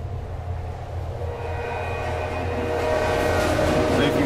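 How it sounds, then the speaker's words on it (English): In the video game Silent Hill 3, a train approaches on the tracks with a low rumble that steadily grows louder, a faint high whistle-like tone rising above it, while someone speaks briefly over it. "Oh. Train's coming."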